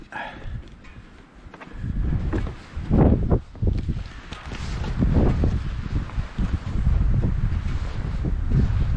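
Strong gusty wind buffeting the microphone in heavy, uneven rumbling bursts, loud and close, with no voices.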